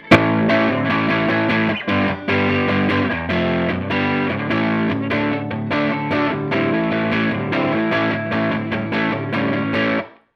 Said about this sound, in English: If I turn the distortion all the way off, and now I'm just using the boost section.